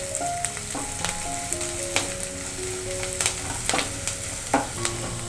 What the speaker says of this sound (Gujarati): અને બંનેને 1 મિનિટ જેવું સોતે કરી લેશું